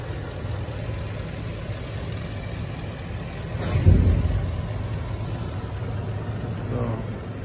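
A 2017 Ford F-250 XLT crew cab 4x4 with a 6.2 liter engine idles smoothly and steadily, with a brief low swell partway through amid faint background noise.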